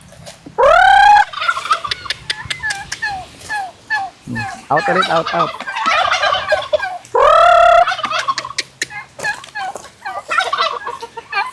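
Turkeys gobble loudly twice on a livestock farm, several seconds apart, with brief talking and other bird noises between the calls.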